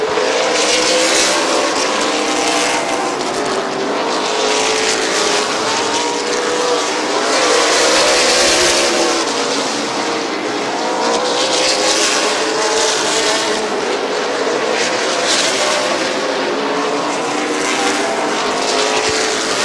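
Race cars roar around the Midvale Speedway oval during the fall classic, engines loud and continuous with swelling passes and overlapping drones of traffic, no talk over them.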